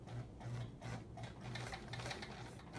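A sewing machine stitching a Charming Chevrons quilt: a fast, steady, close mechanical clatter of stitching that runs through the whole short clip, fairly quiet and with no voices.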